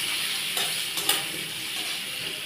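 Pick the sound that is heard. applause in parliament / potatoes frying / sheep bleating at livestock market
potatoes frying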